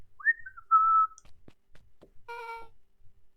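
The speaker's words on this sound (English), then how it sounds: "whistling a jaunty tune" A game character in Beacon Pines whistles a short, jaunty tune, a few clear bright phrases with gaps, the last note held with rich harmonics, fairly quiet against near silence.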